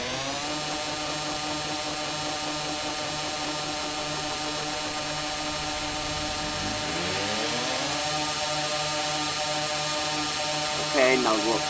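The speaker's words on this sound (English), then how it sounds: "Sorry about the droning noise of the motor" Boat motor in the video game Stormworks, a steady, buzzy mechanical drone running without a break and rising slightly in pitch partway through, loud and close, with a brief clatter near the end.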